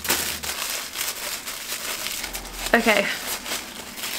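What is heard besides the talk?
crinkling tissue paper from a Charlotte Tilbury advent calendar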